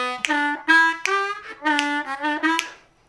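Harmonica playing a quick phrase of short funky notes from a song, with choppy staccato blows and draws in close succession, solo and close.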